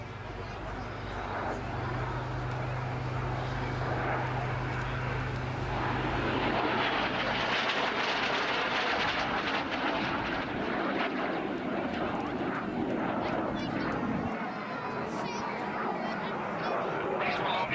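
Fixed-wing aircraft flying past at an outdoor air show, a steady engine drone swelling and fading, with a commentator talking over it.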